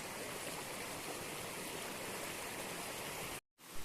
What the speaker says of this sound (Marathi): भरपूरचं पाणी हे पा खळखळून असं वाहत आहे